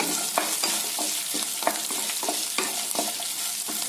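Lentils and garlic sizzle steadily in oil in a pan while a spoon scrapes and stirs in a quick, regular rhythm, close and fairly quiet.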